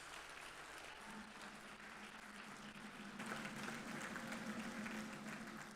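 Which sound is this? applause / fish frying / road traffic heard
applause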